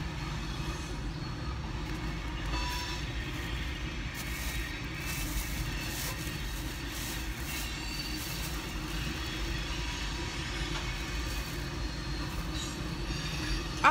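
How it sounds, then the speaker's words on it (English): A long freight train rolls past steadily for the whole stretch, a continuous loud rumble of wheels on rails with faint squealing and clatter and no break in the sound. "That train is so long today."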